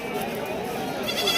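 A goat at a livestock market in Shirur, Maharashtra, where a 70 kg billy goat is offered for Eid, gives a close, drawn-out wavering bleat with market voices around it.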